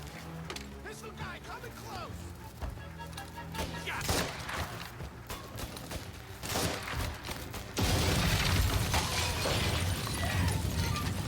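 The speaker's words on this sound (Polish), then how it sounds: "Fajne te wybuchy." Explosions and bursts of gunfire from the video game Mafia Definitive Edition, sharp blasts and crackling shots scattered throughout, with a louder sustained roar near the end, while players talk over it.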